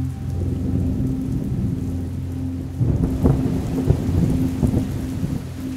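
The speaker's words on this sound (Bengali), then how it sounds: "শুধু বাইরে বাতাসের শোঁ শব্দ আর বৃষ্টির একটানা ঝমঝম ধ্বনি" Steady heavy rain pours outside with wind, punctuated by low rolling thunder that grows stronger and more broken in the second half; no voices.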